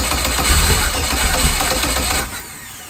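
A motorbike engine rumbles loudly and steadily up close, then abruptly cuts out and goes quiet near the end.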